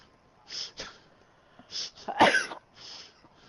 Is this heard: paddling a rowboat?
no